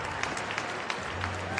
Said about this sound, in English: The crowd just applaud, and she steps up onto that podium in first position.